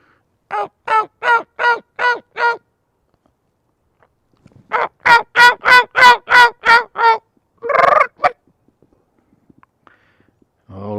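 Wild turkeys, young male jakes, gobble in two loud, rapid rattling bursts close by, followed by a shorter call and near silence outdoors.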